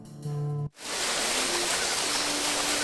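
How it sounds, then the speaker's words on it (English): Steady broadband rush of a waterfall in the video game Monkey Island 2: LeChuck's Revenge, starting abruptly after a short tonal musical passage and continuing loud and constant. "It was a waterfall before, too."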